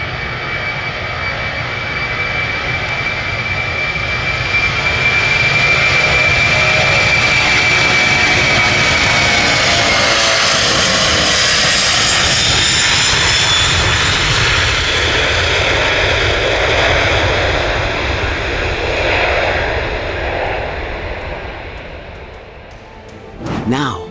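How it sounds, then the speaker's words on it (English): A US subway train roars into a station, a loud, building roar that sweeps in and swells, a rushing, jet-like rumble that holds for many seconds before fading off. "The thunderous roar emitted by the US subway when it arrives at the station"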